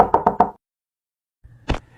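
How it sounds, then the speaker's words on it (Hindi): Three quick, sharp knocks on a door, followed after a pause by a single fainter knock, close and clear in an otherwise silent room. "तभी अचानक किसी ने दरवाजा खटखटाया।"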